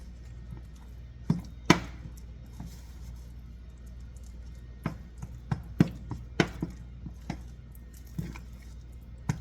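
A spoon works flour into a thick tater cake batter in a bowl, giving soft irregular squishing thuds and sharper taps against the bowl, quiet and close, scattered over several seconds with no talk.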